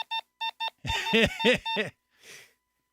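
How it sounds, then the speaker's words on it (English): A news beeper sounds four short, sharp electronic beeps in a regular rhythm, then a few wheezy, squeaky honking tones, then a brief soft noise burst, close and clear with no talk. "He has his own beeper."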